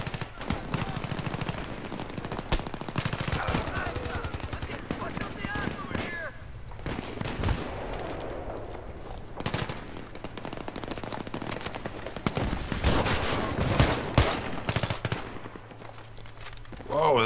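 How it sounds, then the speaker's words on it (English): Automatic weapon fire in Battlefield 3 crackles in repeated rapid bursts, some close and loud, others more distant, with scattered single shots and a player talking over the combat. "Why are you shooting at me?"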